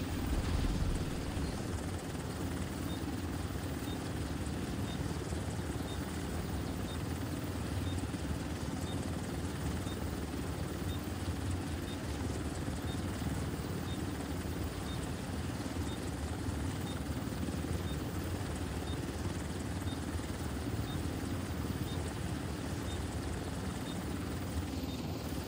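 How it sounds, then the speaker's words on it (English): Helicopter in The Division 2 video game hovering at an extraction zone, a steady loud rotor drone with constant engine whine that holds unbroken for the whole stretch without speech. "Helo at the extraction zone. Helo is on site."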